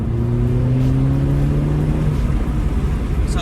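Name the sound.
2014 Mercedes CLA 250 AMG exhaust revving while accelerating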